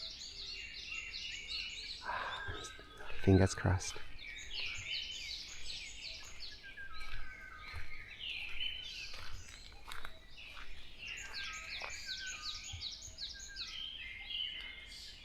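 Morning birdsong that includes a black-naped oriole, with repeated clear whistled phrases and scattered chirps at moderate distance. Soft rustles and a brief nearby voice break in.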